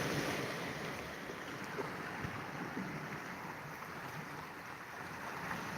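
Wind-driven waves washing along the freshwater shore of Lake Huron in Michigan, a steady broadband rush of surf and gusting wind with no one talking, continuous and fairly faint throughout.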